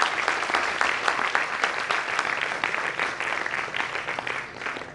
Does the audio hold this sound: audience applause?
yes